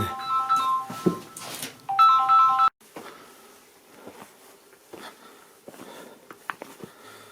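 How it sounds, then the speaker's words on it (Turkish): A phone ringtone chimes in two bursts of bright, repeating electronic tones, fairly loud and close, followed by quieter rustling and clicking movement sounds. "Telefon mu çalıyor abi"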